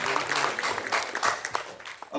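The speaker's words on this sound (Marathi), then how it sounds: "गोविंदच्यासाठी जरा जोरात टाळ्या होत्या या ठिकाणी" An audience claps for Govind at a lecture event, with a brief burst of applause from a gathered crowd mixed with a speaker's voice.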